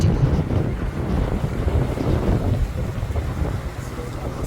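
A sailing yacht at sea off Raiatea in French Polynesia, with a steady rush of wind and water noise roaring continuously and loudly against the microphone.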